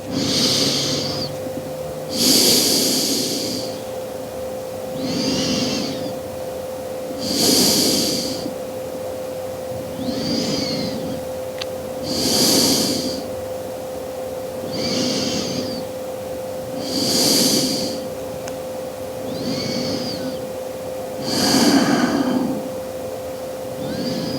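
Slow, deep yoga breathing heard close to the microphone, with about ten even, airy inhales and exhales in a steady rhythm over a faint constant hum.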